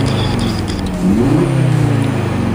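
An Audi RS3 engine in standard mode idling and rising into a brief rev, steady and fairly loud, with a smooth, ordinary exhaust note and no talking.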